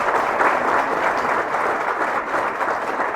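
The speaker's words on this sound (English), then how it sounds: "I'd like to offer you a round of applause" Steady applause from a live show audience, a dense wash of clapping that holds at an even level throughout.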